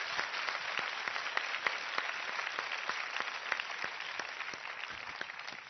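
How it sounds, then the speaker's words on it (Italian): A television studio audience applauds the make-up artists, a steady patter of distinct claps at moderate volume, evenly sustained and sounding fairly close. "Un applauso ai truccatori."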